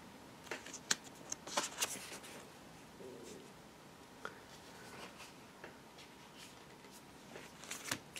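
Tarot cards shuffled and laid out one by one, giving faint scattered taps, flicks and slides on a table, close and quiet with no talking.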